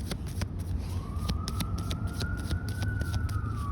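A fire truck siren wails in the distance, a single rising and slowly falling tone that stays faint beneath steady background noise with some light tapping.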